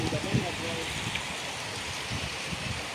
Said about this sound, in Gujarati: મિત્રો જોઈ શકો છો ખતરનાક વરસાદ આપણે ચાલુ થઈ ગયો